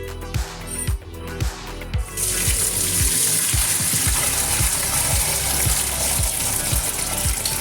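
Water is drained off soaked, steamed sago pearls, a close, steady gushing pour that starts faintly and becomes a loud continuous splash after about two seconds, with a low rhythmic thumping underneath.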